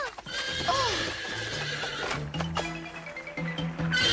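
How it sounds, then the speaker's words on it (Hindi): A horse in an animated cartoon neighs and whinnies in rising, shrill calls, with hoof clops and background music underneath. "ये तो एक घोड़ा है।"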